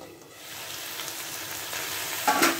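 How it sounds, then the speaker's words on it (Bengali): Sliced ivy gourd (kundri) fries in a pan with a continuous, even sizzle heard up close, and a brief utensil clatter rises just before the end. "এই যে কুদরি ভাজা"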